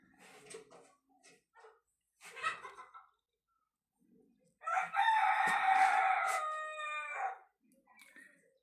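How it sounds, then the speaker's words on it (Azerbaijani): A rooster crows once in a long, loud, close call lasting nearly three seconds, preceded by a few faint scattered sounds. "Bu videoda sizcə neçə dəfə xoruz banlayıb?"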